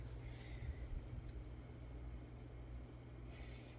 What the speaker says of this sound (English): You guys hear the crickets.